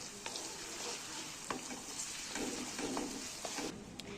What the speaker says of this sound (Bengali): এটা যতক্ষণ না ব্রাউন কালার হবে না ততক্ষণ অবধি আমরা নাড়তে থাকবো